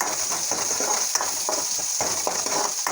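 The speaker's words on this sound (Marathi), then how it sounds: "कांदा मिरची घालून झाल्यानंतर आपण मिक्स करून घेऊया" Onion and chili stirred as they fry in a pan for a Marathi potato bhaji, a steady close sizzle broken by repeated scraping strokes of the spoon, with no voices.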